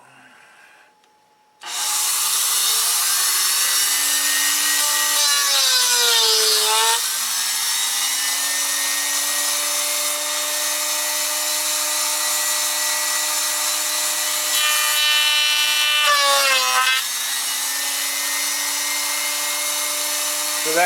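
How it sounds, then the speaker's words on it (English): An electric router cuts a piece of 1/2 inch wood, starting abruptly and then holding a loud, steady high whine, with its pitch dipping briefly as the bit bites into the cut twice. "So I'm going to plug this router in."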